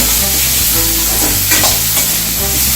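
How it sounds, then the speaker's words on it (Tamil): Carrot, cabbage and capsicum sautéed for vegetable fried rice give a steady close sizzle, with a spatula scraping and stirring through the pan in irregular strokes and no talk. "கோஸ்ட்டு குடமிளகாய் இது எல்லாத்தையும் போட்டுருங்க போட்டு இது நல்லா வதங்குங்க"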